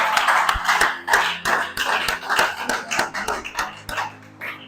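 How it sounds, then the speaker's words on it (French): Congregation applauding in praise at a church service, a steady burst of rhythmic hand clapping from many people with some low background tones, sustained across the whole stretch. "Est-ce qu'on peut encore acclamer pour le Seigneur?"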